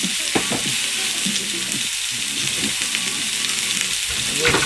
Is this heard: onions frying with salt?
yes